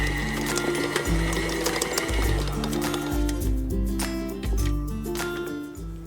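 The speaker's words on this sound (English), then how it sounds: "we want to turn the standing mixer back on to speed setting number 4, and we're going to knead the dough for another 5 minutes" Stand mixer kneading bread dough for Vietnamese banh mi baguettes at speed 4, a loud steady motor hum with a rhythmic thumping cycle about once a second, close and continuous.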